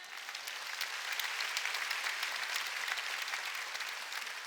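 A church congregation at a Sunday worship service bursts into steady applause, a dense wash of many hands clapping evenly throughout with no voices standing out.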